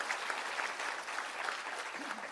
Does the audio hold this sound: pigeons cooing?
no